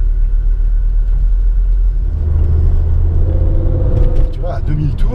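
A Ford Focus RS running smoothly while driving, a deep steady engine rumble and road drone close in the cabin, with people talking over it.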